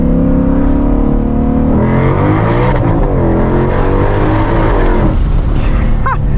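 A loud 2022 Shelby GT500 engine revs and climbs through rising gear tones, accelerating hard with a steady roar, then shifting and building again near the end.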